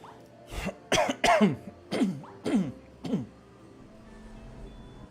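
A person coughs in a series of about six harsh, close hacks spaced roughly half a second apart, trailing into quiet room tone.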